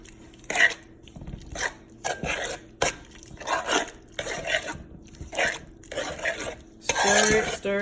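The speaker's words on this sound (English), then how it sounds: "Stir it. That way the Maggi cubes can melt." A spoon stirs Maggi cubes into a pot of cooking rice and beans, Caribbean style, with close, irregular scrapes and clinks of metal against the pot repeating throughout.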